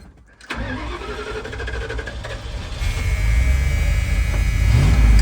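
A big block Plymouth Trail Duster, abandoned and broken since 2002, cranks and fires up after years, catching quickly and settling into a loud, rising rough idle close by.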